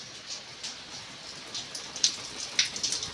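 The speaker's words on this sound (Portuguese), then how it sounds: "De repente, mudou pra chuva." Sudden rain falls outdoors with a steady faint hiss and scattered drops striking a surface, growing slightly louder toward the end, with no talk.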